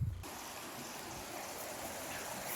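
A river flowing in steady, soft broadband wash heard at a distance, continuous and fairly quiet with no talking over it.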